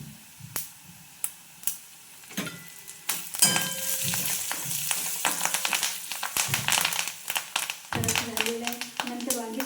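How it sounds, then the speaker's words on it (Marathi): Curry leaves hit hot oil in a pan with a burst of crackling sizzle that keeps spitting and popping. Sharp utensil clicks and stirring scrapes run through it, and a voice speaks at times. "गॅसचा स्लो वाढवायला कढीपत्ता टाकायचा"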